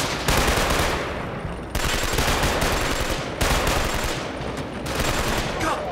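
Gunfire in a shooter video game, sustained loud automatic bursts that run almost continuously and are broken into three long strings by brief gaps.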